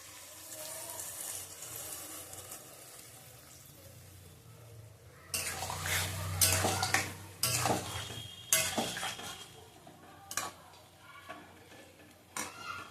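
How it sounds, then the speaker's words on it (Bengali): Water poured into a cooking pot of Bengali hilsa fish curry with eggplant and radish, a splashing rush that starts after quiet and comes in several loud, close bursts with clattering between them. "এখন এমনি শুধু জল দেবো, অল্প জল দিলাম।"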